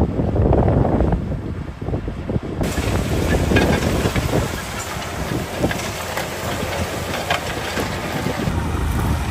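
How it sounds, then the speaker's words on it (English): Strong wind buffeting close by, a loud roaring rush with gusty surges that rise and fall throughout, no voices heard. "It is really getting windy out"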